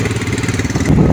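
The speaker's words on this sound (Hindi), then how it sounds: "आ गए हमारे सारे बाइक" Several motorcycles rumble steadily at idle on a night ride near the Dobra Chanti bridge in the Garhwal mountains, a dense, continuous engine drone that swells slightly toward the end.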